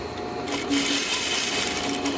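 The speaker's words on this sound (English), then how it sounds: "Leave the needle down, and then we're just going to turn it and then stitch across." A sewing machine runs steadily while stitching a shawl collar neckline, giving a continuous close whirring hum of rapid stitches throughout.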